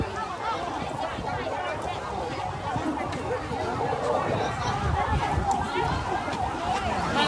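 A fire engine siren wails in the distance beneath a crowd of people chattering and calling out nearby at a house fire in a village.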